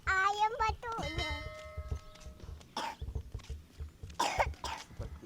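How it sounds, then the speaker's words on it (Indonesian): A child coughs in short bursts outdoors on a morning walk, with a pair of louder harsh coughs after some sung or spoken voice, and low traffic rumble beneath. "Aduh, batuk."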